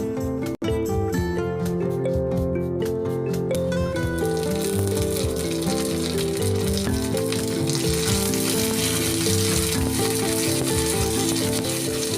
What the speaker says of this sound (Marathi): लसूण हलका ब्राऊन होईपर्यंत तेलामध्ये परतून घ्यायचं आहे